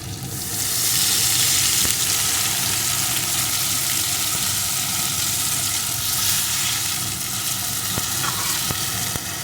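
Steady, close sizzling of pumpkin, potato and pointed gourd frying in a pan as a splash of water goes in, a continuous hiss and bubbling with faint clinks, no voices.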